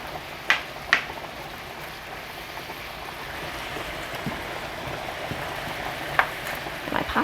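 Shrimp for scampi fry in a pan with a steady low sizzle, dotted with a few sharp clicks and taps from a utensil, close by with no talking.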